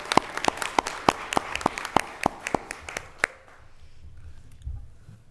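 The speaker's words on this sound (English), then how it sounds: "Let's give them a round of applause." A small group at a school board meeting claps for about three seconds in sparse, irregular claps, close and fairly quiet. The clapping fades into room murmur.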